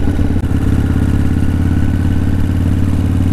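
A motorcycle engine idles steadily up close after a recent air filter change, a loud, even low rumble with a fast mechanical patter and one brief dip near the start.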